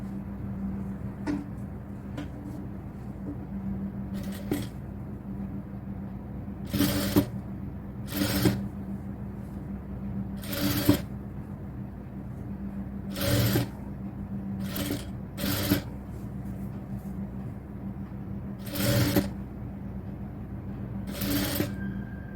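Sewing machine stitching a back cross piece onto the neckline of a cotton top, running in about nine short bursts of one second or less with quiet pauses between them, close and fairly quiet, no talking.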